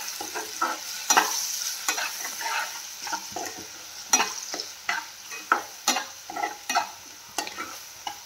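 Shredded patta gobhi with turmeric and salt fries in a pan and is stirred, producing a soft steady sizzle under a series of clattering scrapes and taps from the spoon, with no talking.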